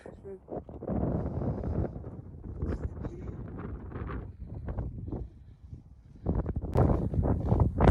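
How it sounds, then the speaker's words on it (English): Wind buffets the microphone on a hilltop, blustery gusts rising and falling while people talk nearby. "It is a tad breezy."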